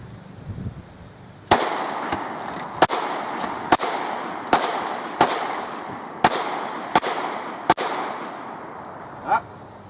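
Nine sharp gunshots from a Smith handgun being test-fired ring out at a steady pace, each a loud crack with a short echoing tail, followed by a brief faint voice near the end.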